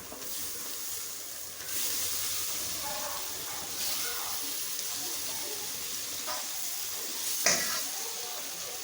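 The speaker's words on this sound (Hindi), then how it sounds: "पंजों को हमने अच्छी तरह से इस मसाले में भून लेना है" Chicken feet frying in a pan of masala sizzle steadily up close, with scrapes and stirring clatter from a spoon breaking through the hiss at intervals, and one sharper metallic clink near the end.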